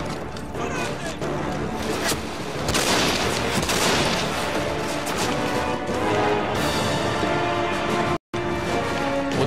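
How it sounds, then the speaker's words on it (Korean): Grenades and gunfire in the game DEADFALL Adventures make dense, loud, continuous bursts and booms throughout, with only a brief silent cut near the end. "수류탄 겁나 쏘네."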